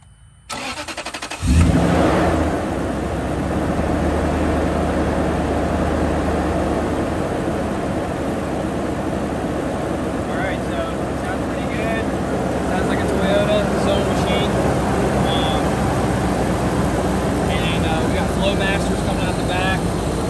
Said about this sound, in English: You just stay out here and I'll crank it up and let you listen to it.